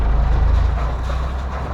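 A rebuilt boat engine rumbles loudly and steadily up close, a low throbbing drone as it revs up.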